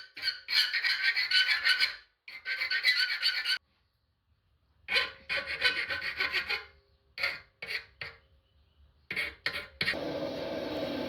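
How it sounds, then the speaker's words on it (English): Metal screw tabs on a forged drawer handle are cleaned up with a hand file, giving harsh rasping strokes in bursts of long and short rubs separated by pauses, close and alone. "I thought I'd give them a quick clean up with the angle grinder and the file"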